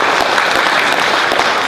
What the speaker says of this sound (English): Taylor, Kurt, can we get an applause for this?